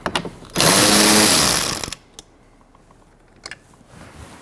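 Cordless power tool removing a 7mm bolt from a Ford Escape front door panel, one loud whirring burst of just over a second, followed by a few faint clicks and taps in a quiet space.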